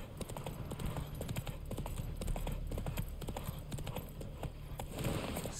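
Horse hooves clip-clop in a steady galloping rhythm while riding in The Witcher 3, loud and continuous with a brief whinny-like accent, no one talking.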